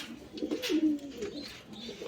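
Soft, low pigeon coos close by, a gentle rolling murmur lasting a couple of seconds.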